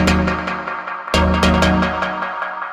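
A Schranz synth patch built in Serum 2 with delay and reverb plays as a loud, dense, pulsing tone with sharp hits and a reverberant tail, with no voices.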